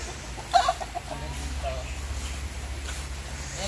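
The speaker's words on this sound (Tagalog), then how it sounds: "Ang manok." A chicken on a farm gives a few brief clucks near the start, then quieter calls over a steady outdoor background hum.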